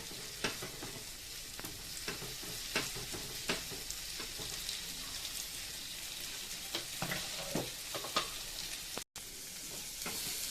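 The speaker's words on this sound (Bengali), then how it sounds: "গ্যাসের ফ্লেমটা একটু বাড়িয়ে এটাকে একটু নাড়িয়ে নেব" Mung dal with prawns stirred in a pot over a gas flame, a steady sizzle broken by repeated scraping strokes of the ladle, close and alone without voices.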